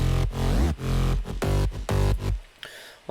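Layered warm synths over a deep sub bass from an electronic dance track remake, loud and dense, pumping in rhythmic bursts with short gaps before thinning out at the end.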